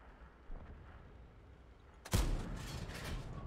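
A tank cannon fires in the World of Tanks video game: one sudden loud blast partway through, followed by a rumbling, ringing tail, with quieter engine noise before it.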